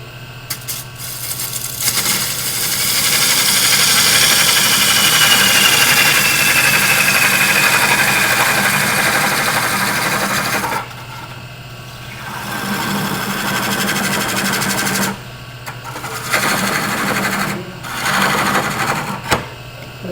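Wood lathe turning a Norfolk Island pine piece, a loud continuous motor hum with gouge cutting hiss, dropping out in several short pauses as the tool lifts off the wood.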